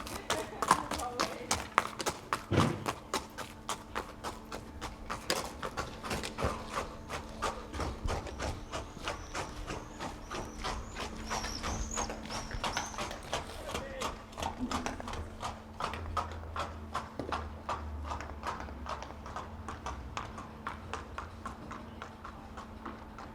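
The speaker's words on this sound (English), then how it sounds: "The horses are on their way to the Bahathri gallops" Steady, rhythmic clip-clop of several racehorses' hooves walking on a hard surface, continuous and fairly close, with a low background hum.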